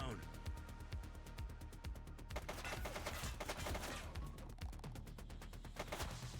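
A suspect shooting in the police game The Precinct: dense, rapid gunfire rattles continuously under overlapping voices, with bursts thickening partway through.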